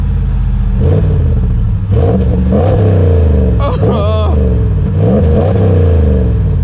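A 2019+ Ram 1500 with the 5.7L Hemi V8 and Magnaflow 19443 exhaust revving repeatedly, deep loud rumbling swells rising and falling in quick blips, close up, with a voice heard briefly over it.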